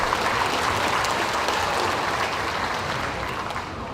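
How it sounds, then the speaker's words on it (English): A large crowd at a county fair royalty contest applauds a contestant, dense continuous clapping held at a steady level for several seconds before easing slightly at the end. "Give her a round of applause"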